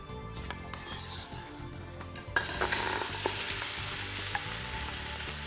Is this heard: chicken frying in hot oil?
yes